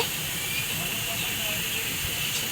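Steam hisses steadily from a pressure cooker as it is opened to check the boiled contents, a constant loud rushing hiss lasting the whole moment.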